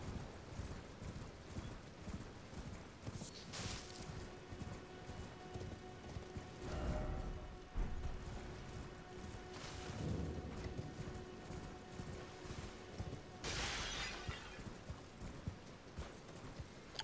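Horse hoofbeats from riding the mount in Elden Ring, a steady, quiet clip-clop rhythm running throughout with a few brief louder bursts and game ambience, no talk.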